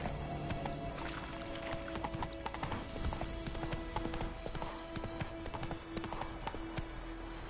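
Roach the horse gallops in The Witcher 3, rapid close hoof clip-clops drumming steadily over game music, with a brief whinny-like touch.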